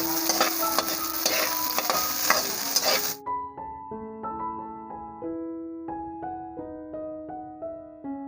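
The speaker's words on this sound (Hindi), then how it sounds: "मटर, अब इनको हल्का सा भून लेंगे।" Peas and onions stir-fried in a pan, with a steady sizzle and stirring scrapes for about three seconds before giving way to soft sustained musical tones.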